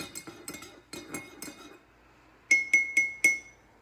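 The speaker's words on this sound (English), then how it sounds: "Listening to the sound of the knife hitting sides of the coffee cup." A knife stirs inside a coffee cup, tapping its sides in a quick series of clear ringing clinks, then pausing before four brighter, louder strikes close by in a quiet room.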